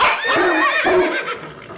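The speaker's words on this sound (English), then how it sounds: "I swore I heard a horse in that last take." A single loud, wavering neigh rises and falls over about two seconds, close by, with no talking.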